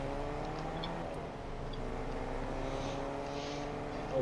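A truck engine drones steadily in Fortnite, a constant low hum with a slight pitch drift, faint and continuous throughout.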